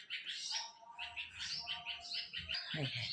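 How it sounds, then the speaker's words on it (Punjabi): Several sparrows chirp and tweet continuously in quick, overlapping bursts, fairly close, with a soft low rumble underneath. "ਵਾਹ ਚਿੜੀਆਂ ਦੀ ਚੀਚੀ ਕਿੰਨੀ ਸੋਹਣੀ ਲੱਗਦੀ ਹੈ"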